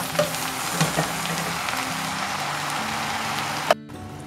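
Homemade sauce poured over fried meat in a pan for a baked rice dish, setting off a loud, steady sizzling hiss that ends abruptly in a brief clatter, no speech.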